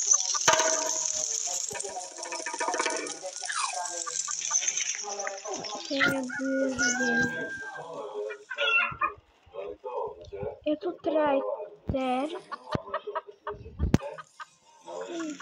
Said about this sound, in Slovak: A teraz, keď ti zabijem túto sliepočku, no tak už budeš v pohode.